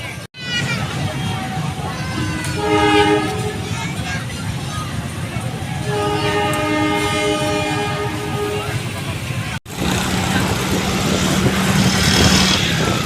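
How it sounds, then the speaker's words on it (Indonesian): A train rumbles past a level crossing in Prabumulih, Indonesia, halting a street carnival parade, with a sustained horn sounding twice amid crowd chatter and steady rail noise. "ini mau ada kereta lewat ya teman-teman"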